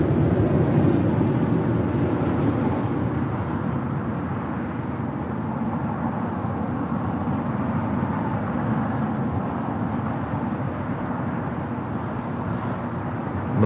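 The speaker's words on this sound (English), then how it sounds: "France Flight 72 coming in from Paris in the 777-300ER, waiting to cross over 25 right." An Air France Boeing 777-300ER from Paris taxis at LAX, holding to cross runway 25 right; a steady, broad engine rumble and roar runs the whole time at an even level, with no voices heard.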